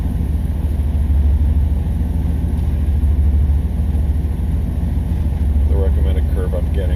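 A 1987 Pontiac Trans Am engine with Megasquirt fuel injection idles steadily after a cold start, a loud continuous low rumble close by with someone talking over it.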